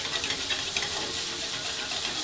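Jerk pork frying in a hot pan for tacos gives a steady, close, crackling sizzle that hisses on without pause and with no voices.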